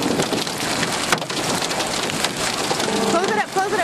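Hail pelts down with heavy rain in a rainstorm, a loud, dense, steady patter throughout, with a brief voice near the end.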